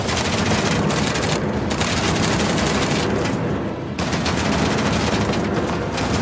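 Dense, continuous video game gunfire from Uncharted: The Lost Legacy on PS4 roars without letup, rapid shots overlapping into a loud barrage with a brief dip partway through.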